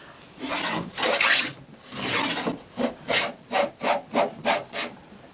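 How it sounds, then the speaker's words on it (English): A hand plane takes heavy shavings off wood on a heavily cambered blade, giving a series of close, loud rasping strokes, a few longer ones followed by a quicker run of short, rhythmic passes. "Pretty heavy shaving on a heavy camber."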